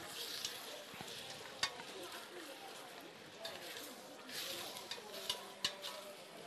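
Onion and garlic sizzle in a pan with meat and chicken for a home-style tajine, a steady low hiss of frying close by with occasional clinks of a spoon against the pot, under soft talk.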